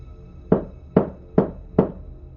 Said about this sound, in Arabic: صحيت على صوت خبط على باب الأوضة.